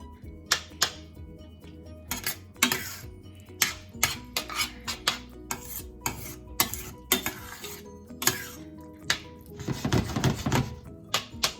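Japanese curry is stirred in a pot on a stovetop, with a string of uneven clinks, knocks and scrapes of the utensil against the pot and a faint simmer between strikes.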